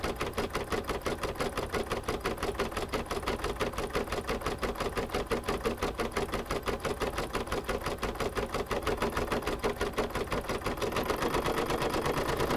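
Embroidery machine stitching an appliqué Easter egg coaster in the hoop, a fast, even mechanical rattle of needle strokes running steadily and close throughout.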